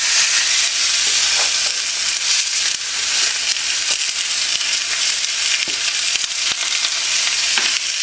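Coated food fries in oil in a pan, a loud, close, continuous crackling sizzle with scattered sharper pops throughout.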